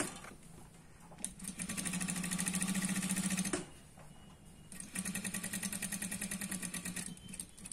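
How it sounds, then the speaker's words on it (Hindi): A sewing machine runs in two long bursts of steady, rapid stitching along the neckline of a Punjabi dress, with a short pause between them and a brief start at the beginning. It sounds close and fairly loud. "अब हम इसके ऊपर बराबर सिलाई लगाएंगे पूरे राउंड में।"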